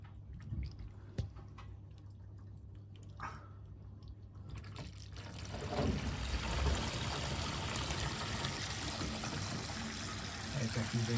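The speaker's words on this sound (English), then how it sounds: "You should literally be able to hear the water gushing out there." Water gushes out through a bath drain, starting faint with scattered drips and then swelling after a few seconds into a steady, broad rushing flow that continues close and loud.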